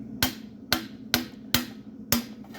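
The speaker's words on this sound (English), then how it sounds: "then you take your mallet or a heavier mallet" A heavy mallet strikes a stuck trumpet valve cap five times in an even rhythm, each blow a sharp, close metallic tap with a short ring, alone without talk.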